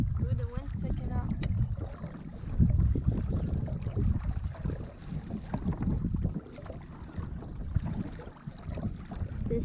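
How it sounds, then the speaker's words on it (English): Wind buffets the microphone while sailing an RS Zest sailboat on Peconic Bay, a heavy, gusty low rumble with water noise beneath, faint voices mixed in. "the wind's picking up"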